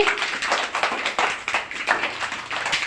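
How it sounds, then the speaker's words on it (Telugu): A group of children clap together loudly in a classroom, a dense, steady burst of overlapping claps with sharp peaks, heard alone without speech. "అందరూ ఒకసారి గట్టిగా క్లాప్స్ కొట్టండి"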